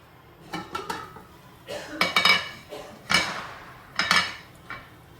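A metal spoon stirs ten cashews in a pan while they are lightly fried for matar pulao, giving a handful of sharp, close clinks and scrapes spaced across a few seconds over a quiet background.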